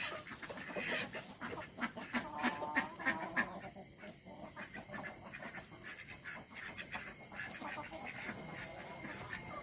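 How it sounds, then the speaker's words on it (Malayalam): A small backyard flock of ducks, four females and two drakes, quacks and clucks in repeated overlapping bursts close by, with a steady outdoor murmur underneath. "നമ്മുടെ താറാക്കൂട്ടം അഞ്ചാറ് വരെ ഉള്ളു"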